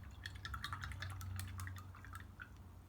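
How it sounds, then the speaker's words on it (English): A paintbrush swished and rinsed in a cup of water during rock painting: soft, close dripping and sloshing with light splashes over a low hum, faint, with no voices. "Wash out your paintbrush."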